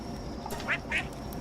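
A duck quacks twice in the Palworld video game, two short nasal calls close together, fairly clear over a soft game background.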